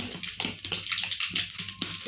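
Mustard seeds splutter in hot coconut oil in a cheenachatti (Kerala-style wok) while a green papaya side dish is being cooked, giving a steady, close, dense crackling sizzle with no voices.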